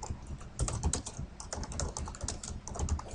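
Quick, uneven clatter of keys on a computer keyboard while typing text into MS Word, close and fairly quiet, with no talk.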